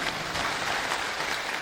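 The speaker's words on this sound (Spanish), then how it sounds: "yo pido un aplauso para Marina" An audience in Peru's Congress applauds Marina Moyano, a brief, steady burst of dense clapping with no voices over it.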